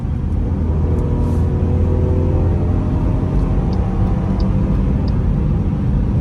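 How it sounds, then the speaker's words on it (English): Steady, loud engine drone heard from inside a 2023 Jeep Grand Cherokee Overland accelerating in sport mode on a night drive, a continuous low rumble with a slowly rising tone and no talk. "Now you guys can hear the engine a little bit."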